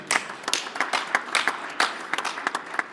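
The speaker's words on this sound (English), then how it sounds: "Big round of applause to Dylan Bearden." Sparse clapping from a small audience at a game calling contest, with roughly a dozen distinct hand claps arriving in an uneven rhythm that stays moderately close and is heard with no talk over it.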